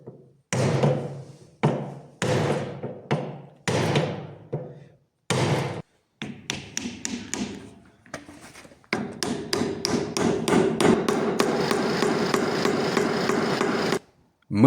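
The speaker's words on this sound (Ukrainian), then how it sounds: "Робимо пропилювання під клин та забиваємо." Sharp wooden knocks from hammer blows driving a wooden wedge into a Viking axe handle come in bursts with pauses, then speed into a fast, steady run of strikes before stopping.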